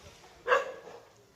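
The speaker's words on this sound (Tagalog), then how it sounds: "Aso." A dog on a mountain road trip in the Sierra Madre gives a single sharp bark that rises out of quiet background noise and fades quickly.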